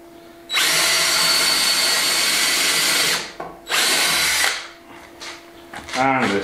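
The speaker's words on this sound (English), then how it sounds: "So a couple of pilot holes right through first." A power drill, switched off hammer mode, whines loudly in two sustained bursts of a few seconds each while drilling pilot holes straight through, followed by brief quieter sounds and a short voice.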